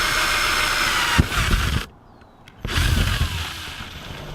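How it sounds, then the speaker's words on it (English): A power drill whines loudly, boring pilot holes through a van's metal roof, cutting out briefly and then biting in again with a harsh, steady grind up close. "when we start drilling the pilot hole, the drill won't slide around and mess up the whole roof."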